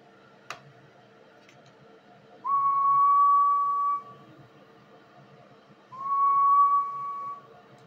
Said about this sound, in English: there's your whistle on sideband just to show you the absolute max draw